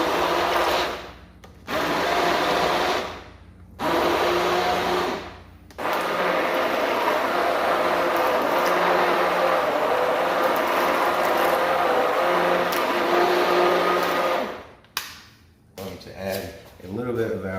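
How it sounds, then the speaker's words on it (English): An immersion blender whirs in a Chardonnay wine sauce base, a steady motor drone broken by several short pauses before stopping near the end. "So I have the immersion blender here."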